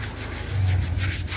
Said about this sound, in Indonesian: Coba kita amplas dulu sobat. Menggunakan amplas halus sobat ya.